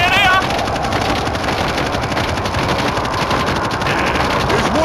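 Sustained Browning machine gun fire in the zombie shooter World War Z on Nintendo Switch, in the New York subway level while guarding a train, a dense continuous rattle lasting the whole stretch with game noise underneath.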